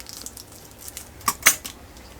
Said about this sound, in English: I'm going to be mixing that cocoa right in there. And I'm going to be mixing some coffee in it.